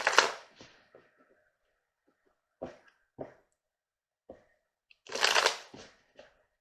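Tarot cards are shuffled in two bursts of riffling, one at the start and a louder one near the end, with a few soft taps and card snaps in between. Nobody talks.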